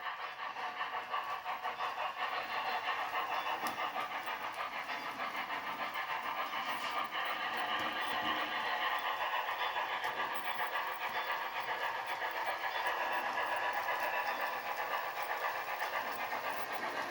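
A model railroad ore train of hopper cars runs along the track indoors, giving a steady, soft mechanical hum and light rolling clatter that carries on without a break, with no voices.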